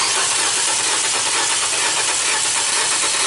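A 2014 Nissan Versa with a crank-no-start fault and no spark cranks without firing, a loud, steady, hissing whir that runs unbroken and evenly from start to finish, with no voices.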